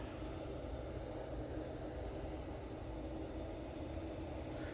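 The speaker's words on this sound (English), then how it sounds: "EasyJet A321 Neo just going through the frame there" An EasyJet Airbus A321neo airliner passes at Manchester Airport, a faint, steady low roar of jet engines that holds even throughout, heard from a distance.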